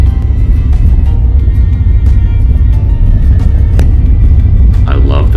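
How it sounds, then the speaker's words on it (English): A car travels a dirt road through desert scrub with junipers and cholla cactus, its engine and tires giving a loud, steady low rumble with faint rattles and knocks throughout. "I love the feeling of adventure and discovery driving down a dirt road"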